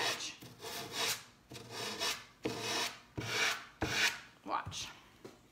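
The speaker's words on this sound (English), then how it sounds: "I'm sanding the edge" Rhythmic rasping strokes of sandpaper rubbing along a wooden edge to cut away decoupaged paper, about eight back-and-forth passes, close and fairly quiet.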